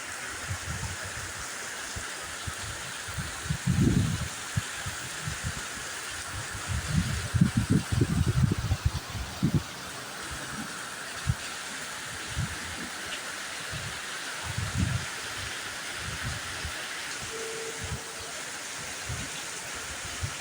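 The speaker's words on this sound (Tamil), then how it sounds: "நல்ல அடமழை பெய்யுது." Heavy rain pours down in a forest, a constant dense hiss broken by irregular louder bursts of splashing drops, steady throughout with no voices.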